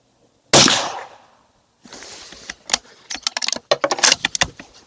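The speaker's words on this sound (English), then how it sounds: "We're going to shoot suppress for Supersonic 168 grain from Federal SMK here." A suppressed Steyr Pro THB bolt-action rifle in .308 fires a single Federal 168-grain supersonic Sierra MatchKing round, a sharp, loud muffled crack with a short decaying tail, followed by bolt cycling, metallic clicks and handling clatter.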